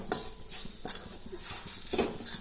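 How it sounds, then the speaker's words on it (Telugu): Gram flour being stirred and fried in a pan for a tomato besan curry, with soft scraping strokes of a spoon recurring every second or so over a faint sizzle, close and fairly quiet. "ఇట్లా కలుపుకుంటూ కలుపుకుంటూ కొంచెం కొంచెం ఎక్కువసేపే కొంచెం మంచిగా వేయించుకోవాలన్నమాట"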